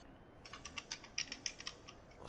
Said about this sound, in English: So it sounds like CJ's typing stuff into a computer to get